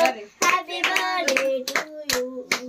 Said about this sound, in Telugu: హ్యాపీ బర్త్డే చప్పట్లు మళ్ళా